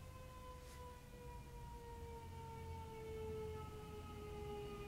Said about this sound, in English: The fire truck.